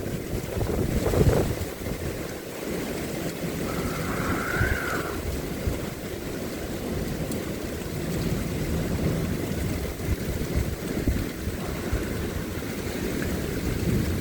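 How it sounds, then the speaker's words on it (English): Steady strong wind roars and buffets the microphone throughout, a constant broad rush with no voices. "And it's getting really windy here."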